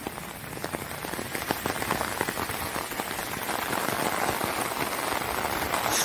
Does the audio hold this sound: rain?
yes